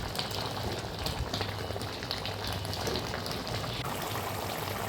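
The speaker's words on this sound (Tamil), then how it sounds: "அப்புறமா நல்லா கொதி வந்துருச்சு." Crab masala boils in a pan, a continuous dense bubbling and popping that stays steady and close throughout, with no voices.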